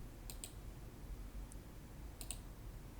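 Mouse clicks on a computer while saving an image file, a few short sharp clicks in quick pairs against a faint steady room hiss.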